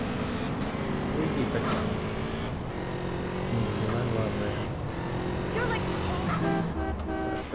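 A car in GTA San Andreas drives with a steady engine hum and traffic noise, and a brief horn-like toot partway through.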